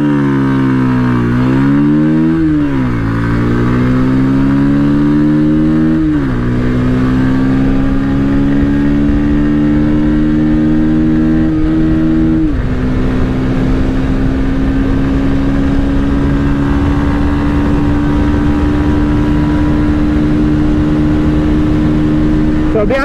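A loud 2023 Bajaj Pulsar 150 engine revs up repeatedly, its pitch climbing then dropping at each gear change, steadily accelerating from 0 to 100 for the whole stretch.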